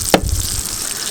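Eggs sizzle and crackle in a pan on a single burner camp stove (Ozark Trail or Coleman Peak 1), a close, steady frying hiss after a brief sharp clack.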